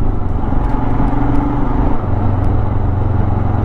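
Royal Enfield Himalayan motorcycle riding, a loud, steady engine drone with a low throbbing exhaust note and a slight pitch shift midway as the rider pulls on, with wind rushing over the microphone.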